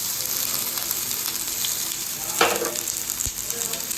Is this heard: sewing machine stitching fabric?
no